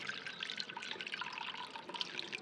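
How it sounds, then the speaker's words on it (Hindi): Fresh water runs and drips into a bird cage's water container, a soft, continuous trickle heard faintly and close, without speech. "अभी ये डालता हूँ पानी"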